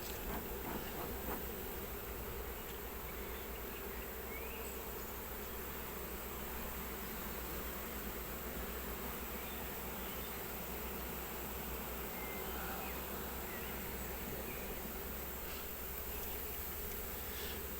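Honeybees buzz around beehives in a continuous, steady drone with no speech, the dense swarm hum filling the whole stretch at an even level.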